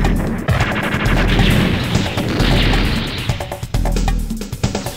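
Gunfire and explosions from the retro war video game 19XX: War Against Destiny: dense, continuous bursts of shots and booms crowd the whole stretch, loud and unbroken, with a brief sharper crack near the end and no talking.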